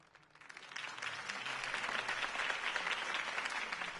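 Crowd applause after a campaign speech in a video game swells from a quiet start into a dense, steady roar of clapping that holds to the end.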